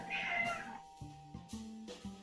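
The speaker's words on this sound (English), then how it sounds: "I'm really worried about my cat and this cat getting into a fight" Two house cats meow at each other indoors before a possible fight, one drawn-out wail followed by a series of shorter, tense meows, fairly quiet and close.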